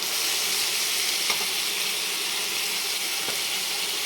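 Chopped tomatoes hit a pan of frying onions, ginger and garlic, giving a steady, even sizzle and hiss that holds at a moderate level with no one speaking.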